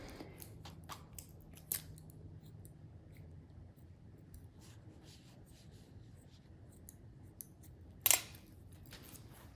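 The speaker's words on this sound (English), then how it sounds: "I'm just cutting behind her ear." Scissors cut hair behind the ear with a few faint, sparse snips over a quiet room background, one sharper snip near the end.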